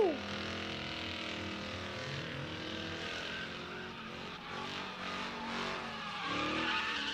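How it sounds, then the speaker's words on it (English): A drift car at a drift pit holds a loud, steady engine roar with rising revs and sustained tire squeal, continuous and close throughout, with faint crowd noise in the background. "He's just in there feathering that throttle"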